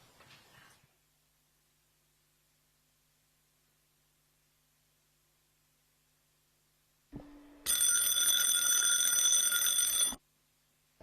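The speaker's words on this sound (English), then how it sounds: "Bell goes for the final of the run." A loud electric bell rings steadily for about two and a half seconds at a greyhound track, signalling the start of a race final, with quiet before it.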